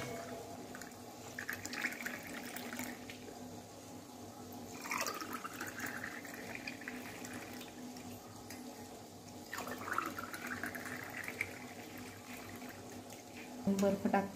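Sugar-sweetened lemon sharbat is strained and poured, a soft steady trickle of liquid running under faint room noise, with brief louder splashes near the middle and at the end.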